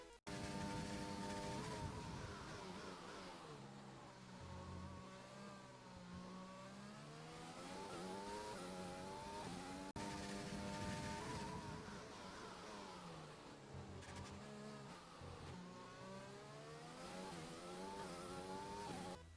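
An F1 race car in the F1 2020 video game takes turns 1 and 2 at Monza, its engine note dropping under braking and then rising through the gears, continuous and loud with no talk.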